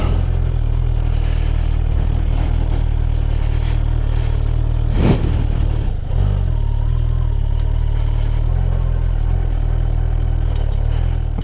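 Kawasaki Ninja 1000SX 2024 motorcycle turning around, its engine holding a loud, steady low rumble close by with a brief rev swell midway before settling back to a constant drone.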